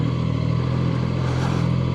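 Zontes 703RR motorcycle pulling away in first gear across a parking lot, its steady mid-pitched engine hum running continuously and fairly close throughout the short stretch, with no talk over it.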